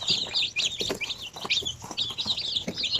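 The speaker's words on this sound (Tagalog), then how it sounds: "nakuha natin yung ganito kadami na mga sisiw" Basilan native chicks, about a hundred of them, cheeping in a busy, overlapping chorus of high, rapid peeps, loud and near and continuous throughout, with no voices.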